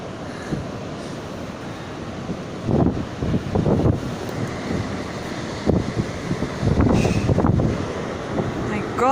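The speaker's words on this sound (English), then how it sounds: "Very windy." Strong wind buffets a microphone high up in a swaying building, a steady broadband roar with louder gusts surging every few seconds and occasional faint voices beneath it.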